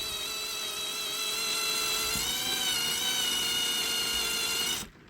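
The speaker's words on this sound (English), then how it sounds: "This drill here is getting a bit knackered." A worn power drill whines steadily at close range for several seconds, its high-pitched motor tone holding even before cutting off abruptly near the end.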